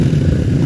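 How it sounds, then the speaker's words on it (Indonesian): A 160cc Ohvale mini GP motorcycle engine drones loud and close in a steady, throaty low rumble with a gritty mechanical rattle throughout. "suaranya motor kecil, powernya besar nih, 160cc nih guys"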